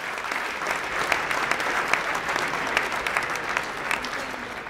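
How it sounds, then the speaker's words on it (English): Audience applause at a State of the City event, steady dense clapping from a crowd throughout, moderately loud with no voices. "So let's have a nice round of applause for the Westin."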